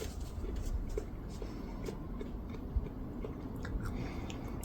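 Someone bites into a crunchy raw radish and chews it close to the mic, with soft repeated crunches over a steady low background rumble.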